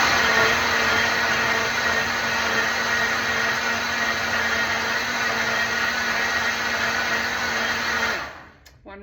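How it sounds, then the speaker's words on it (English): A Vitamix blender whirs loudly and steadily, blending a lime dessert in a home kitchen, with a constant motor roar and hum that runs unbroken before cutting off abruptly at the end. "This is an amazing blender. This is a Vitamix blender."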